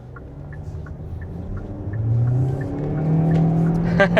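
2025 Kia Soul EX Soulmate Edition accelerating in sport mode, a rising engine drone heard from inside the cabin that builds steadily louder over a few seconds.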